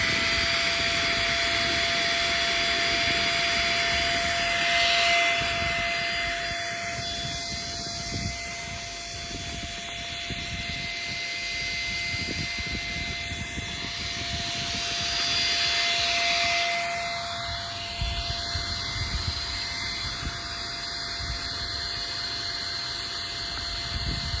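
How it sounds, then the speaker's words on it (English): A 500 W electric air pump deflating an airtight waterproof inflatable outdoor movie screen, a loud steady motor whine and rushing airflow running throughout, swelling and easing a couple of times as the screen collapses. "The pump is removing all the air."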